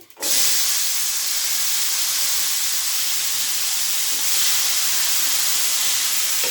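Tomato pieces dropped into hot oil with mustard seeds, cumin and dried red chillies, bursting into a loud, steady hiss that holds unbroken for several seconds, close and with no talk.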